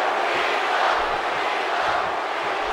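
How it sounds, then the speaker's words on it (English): A wrestling arena crowd from the WWE 2K18 video game roars in a steady, dense wash of cheering that carries on without a break. "the crowd's on the edge of their seats."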